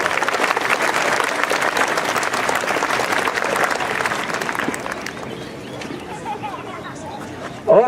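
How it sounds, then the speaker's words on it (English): Crowd at an outdoor Fourth of July guard band concert applauds a soloist, dense clapping mixed with chatter that fades to a murmuring audience. "Give him a nice round of applause."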